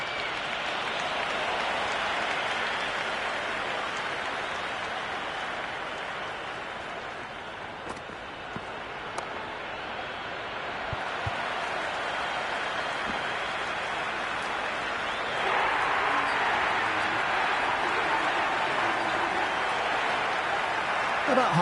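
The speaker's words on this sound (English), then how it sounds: "there's a fantastic crowd ambience at the moment" Steady crowd ambience and applause in the Cricket 26 video game during an Ashes Test match in Australia, a continuous wash of clapping and murmur that swells slightly near the end.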